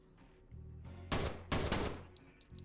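Two loud bursts of gunshots sprayed into a wall in a Counter-Strike-style workshop map, each lasting about half a second, set against a quiet game background with no talking.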